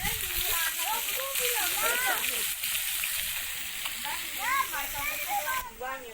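Fish frying in a pan over a wood fire outdoors in a village, a steady bubbling sizzle with some crackle running throughout, while a person talks over it.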